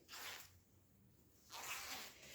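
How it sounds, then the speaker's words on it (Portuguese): A zipper on a sewing project, a travel cosmetic case, is pulled open in two quick rasping strokes, close and fairly quiet, with no talking. "Então, vocês podem abrir esse zíper."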